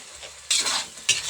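Food frying in a pan in an outdoor dirty kitchen while a utensil stirs it, giving two brief, close bursts of scraping and sizzling with no talk.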